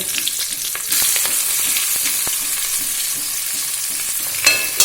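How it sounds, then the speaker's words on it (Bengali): Chopped onion goes into hot fish-frying oil already tempered with two green chillies, bursting into a loud, steady, close sizzle with faint stirring clinks, and no one talking. "রান্নাটা মাছ ভাজার তেলেই হচ্ছে। সাথে 2টো কাঁচা লঙ্কাও মা ফোড়ন দিয়ে দিল। এবার পেঁয়াজ কুচোনোটা দিয়ে দেওয়া হচ্ছে।"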